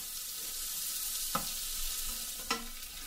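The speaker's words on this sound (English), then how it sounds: "Allow these to fry for 5 minutes" Spices for a vegetable biryani fry in a pan with a steady close sizzle, and two sharp stir or scrape clicks break through it.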